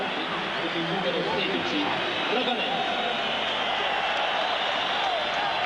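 Dense football stadium crowd at a Juventus versus Napoli match greeting Ravanelli's substitution, a continuous wash of applause and murmuring with a faint whistle-like rise, steady and broad throughout.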